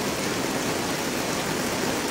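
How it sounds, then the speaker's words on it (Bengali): Heavy rain pouring down in Bandarban, a dense, even hiss of downpour that stays loud and unbroken, with no voices. "খুবই ভয়ানকভাবে বৃষ্টিটা হচ্ছে।"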